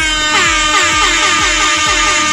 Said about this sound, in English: Okay, so Claudia, let me give you some air horns, Claudia.